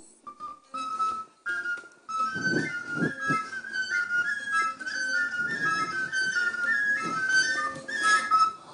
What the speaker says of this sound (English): The wua, known as the local whistle, comes in three main parts